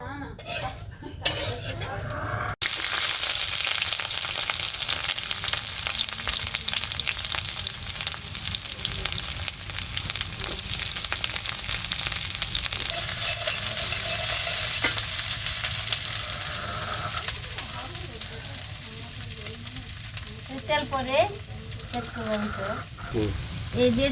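Oil heats and sizzles in a pan in a home kitchen, a continuous broadband hiss starting after a short clatter and lasting throughout, with occasional pan knocks and faint voices in the background.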